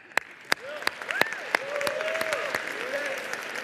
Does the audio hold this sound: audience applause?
yes